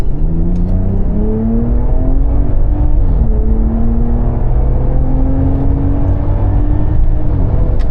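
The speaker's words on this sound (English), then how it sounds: "The stock exhaust, man, it sounds really good on this truck" A Ram RHO pickup with its stock exhaust driving on the road, a loud continuous engine drone with rising and falling revs as it accelerates and shifts, heard close and steady throughout with no speech.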